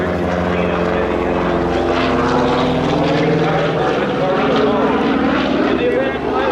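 A Republic P-47 Thunderbolt propeller fighter at an EAA AirVenture air show drones steadily and loudly with a rough engine roar throughout, while a commentator talks over it.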